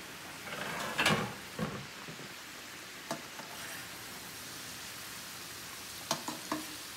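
Cinnamon plantain chips frying in oil, a steady close sizzle that runs throughout with a few scattered clinks and pops from stirring, no talking.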